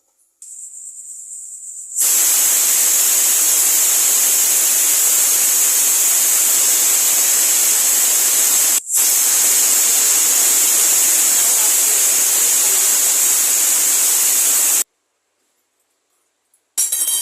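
A pressure cooker cooking mutton curry lets out a loud, piercing whistle of venting steam. It holds for over ten seconds with one brief break, then cuts off.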